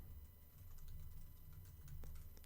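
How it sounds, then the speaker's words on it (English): Keys clatter on a computer keyboard as an email address is entered, a quiet, steady run of soft clicks at close range with a low background hum and no voices. "I'm going to type in my email."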